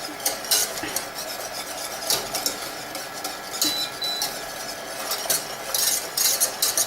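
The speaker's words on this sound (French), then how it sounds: "Voilà, mon mélange est à ébullition." Crème catalane mixture bubbling on the stove is stirred briskly, with quick repeated scraping and clinking of a utensil against the pot over a soft simmering hiss.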